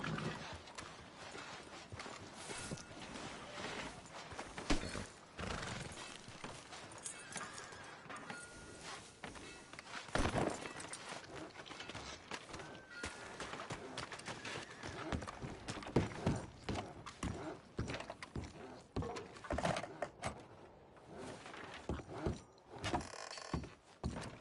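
Horse hooves clip-clop in a video game in a close, uneven rhythm of hoof falls, with a few louder bursts along the way and faint background sounds.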